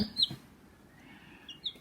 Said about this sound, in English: I think this is a cockerel.